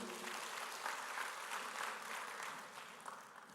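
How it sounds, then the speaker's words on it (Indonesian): A church congregation claps together in a sustained round of applause during a sermon, steady and fairly loud throughout, with no one speaking over it. "Kasih tepuk tangan dulu buat Tuhan."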